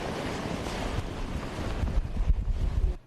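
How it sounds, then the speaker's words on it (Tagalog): Strong gusts from Typhoon Milenyo roar across Manila's Roxas Boulevard, a loud, buffeting rush of wind that swells and surges before cutting off abruptly. "Konti ang dalang ulan ng bagyong Milenyo pero matindi ang gupit ng hangin niya"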